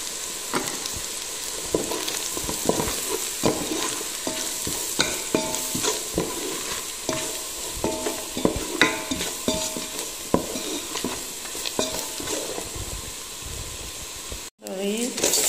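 Onions sizzle steadily in a pan with turmeric while a utensil stirs and scrapes them in repeated strokes, a continuous close frying hiss throughout.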